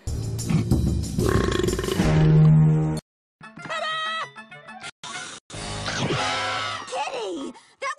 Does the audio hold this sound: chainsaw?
no